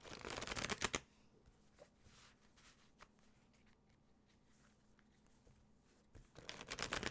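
Tarot cards are shuffled in two loud bursts of rapid riffling at the start and end, with quieter soft card handling and brief taps in between, close and without speech.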